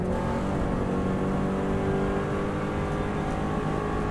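A Subaru WRX STI engine drones loud and steady at full speed on the Isle of Man TT course, a constant in-cabin roar with no one talking.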